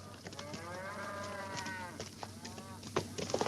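A cow lets out a long, drawn-out moo close by, followed by a few scattered clicks and knocks.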